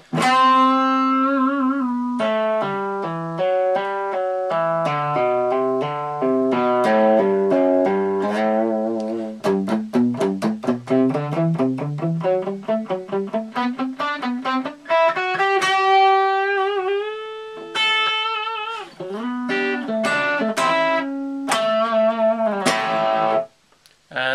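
A distorted electric guitar plays a slow Dorian-mode lick, notes bending and sliding through a run before settling into longer held tones.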